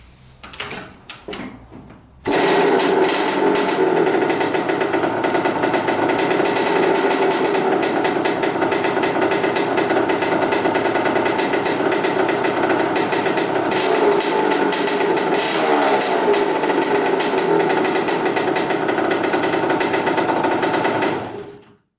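A vintage dirt bike engine starts after a few brief clatters and settles into a loud, fast, steady idle. The close, rapid put-put rhythm holds evenly for nearly twenty seconds before cutting off abruptly.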